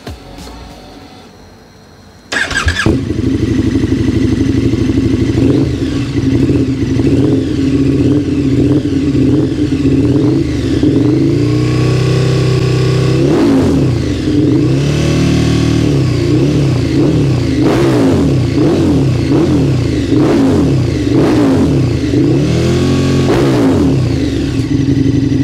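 A KTM 1290 Super Duke R motorcycle with an Akrapovic exhaust starts with a sharp burst, then idles loudly with repeated throttle revs rising and falling, close by and steady for a long stretch.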